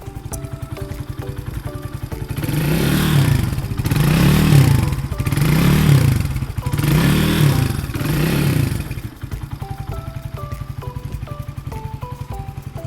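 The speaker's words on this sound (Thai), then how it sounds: "เดี๋ยวเบิ้ลให้ฟังนะครับ" A 2017 GPX Legend 200 motorcycle engine, stock and in very clean condition, idles, then revs in four strong, rhythmic bursts before settling back to a steady idle.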